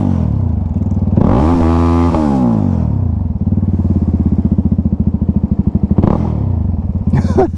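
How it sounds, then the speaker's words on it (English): A motorcycle with a very loud exhaust revs up and back down, then settles into a deep, rapid, thumping idle burble close by, with another brief blip of the throttle near the end. "This exhaust is so loud."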